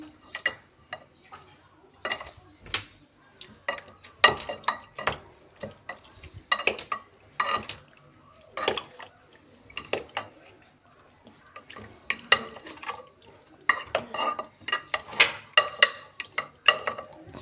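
Chicken pieces being turned over in marinade for Kentucky-style fried chicken, a run of irregular wet clicks and scrapes of utensil against the bowl, close and moderately loud, with occasional talk.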